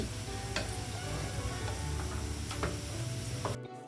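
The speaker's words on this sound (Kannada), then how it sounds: "ಆ ಒಗ್ಗರಣೆ ಜೊತೆಗೆ ಒಂದು 5 ನಿಮಿಷ ಇದು ಕುದೀಲಿ." Chickpeas for kadlekalu gugri cook with a spice tempering in a pan, making a soft continuous sizzle with several light tapping clicks of a utensil before it abruptly cuts off, no voices.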